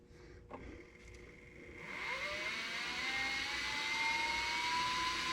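Milling machine on its low pulley boring a Kawasaki KX125 cylinder at a little over 1,000 RPM. A quiet start gives way to a rising whine as the spindle spins up into a steady, moderately loud mechanical hum.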